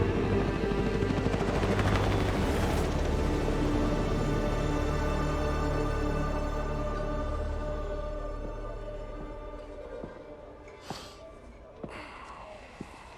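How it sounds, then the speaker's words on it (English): A military helicopter in Call of Duty: Modern Warfare drones on with a loud, steady rotor roar that slowly fades over several seconds, leaving a few faint sharp clicks near the end. "take the helicopter all the way back to the Middle East"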